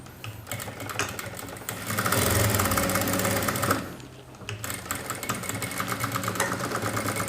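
A sewing machine stitching a saree blouse cup, whirring steadily up close in a continuous run that briefly swells louder and then eases back to a constant hum.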